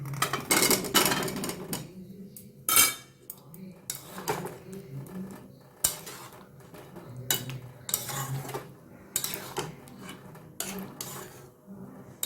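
Potatoes fried earlier are tipped into a pan for a hotel-style potato curry and stirred, with metal utensils clattering and scraping in an irregular run of sharp knocks; voices murmur in the background.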